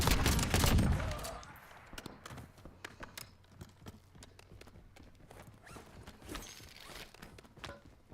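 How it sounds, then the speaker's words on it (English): Gunfire in a military video game opens with a loud close burst, then gives way to scattered, lighter distant shots and sharp cracks that keep popping irregularly at a quieter level. "Taking effective fire."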